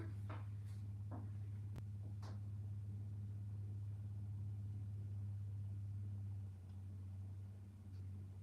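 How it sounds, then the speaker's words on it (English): A neighbor's tractor engine drones with a steady low rumble throughout, muffled as if through a wall, with a few faint knocks and clicks over it. "my neighbors over on his tractor got it running"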